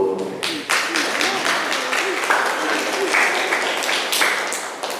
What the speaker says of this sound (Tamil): அனைவரையும் கரகோஷத்துடன் வாழ்த்து கூறுவோம்.